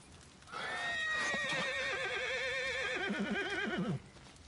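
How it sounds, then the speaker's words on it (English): A horse in Red Dead Redemption 2 lets out one long, loud whinny lasting a few seconds, its pitch wavering and falling toward the end, with faint hoof clatter near the start. "The horse."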